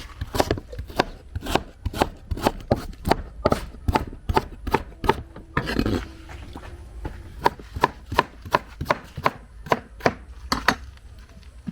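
A knife chops yam steadily on a cutting board, quick regular thuds close by, with a short pause midway before the chopping resumes.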